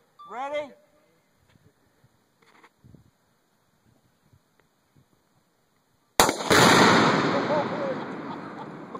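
A piano blown apart by shot tannerite, heard as one sudden, loud, close blast followed by a long roaring, crackling tail of debris. Before it, a voice and faint small sounds.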